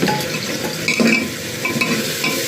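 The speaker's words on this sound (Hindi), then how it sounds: "यहाँ पे बना रहे तहरी" Spiced rice dish (tahri) stirred in a cooking pot, a steady scraping stir over a soft sizzle, close and continuous without speech.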